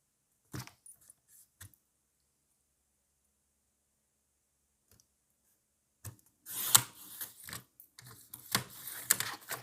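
Scissors snip through excess printer paper close up, with a few brief cuts at first, then a quiet pause, followed by a busier run of crisp snipping and paper rustling.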